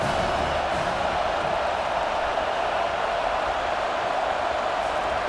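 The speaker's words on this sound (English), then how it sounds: "This crowd bringing the energy and noise early." A dense, steady roar of a large college football stadium crowd in a video game, constant and loud throughout, with no distinct voices standing out.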